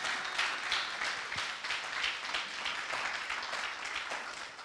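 A church congregation applauding the Lord during a worship service, with steady, dense clapping from many hands that continues without pause, moderately loud and filling the room.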